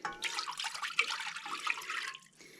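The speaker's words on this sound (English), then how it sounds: "we're gonna pour this basically like a juice slash tea back into this pan" Berry juice made from foraged Alaskan berries is poured back into a pan, a steady splashing liquid stream that runs for about two seconds and then tails off to a trickle.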